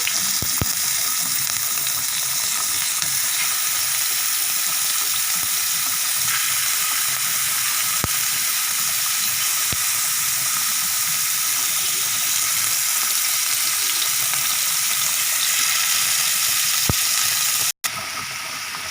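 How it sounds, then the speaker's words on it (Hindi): Marinated chicken wings fry in a spoonful of oil on a tawa, giving a steady, loud, close sizzle that holds evenly throughout, with a brief cut near the end and no talking. "यहाँ तवे पे मैंने 1 चम्मच ऑयल लिया है, इसमें हम चिकन विंग्स डाल देंगे और फ्राई कर लेंगे"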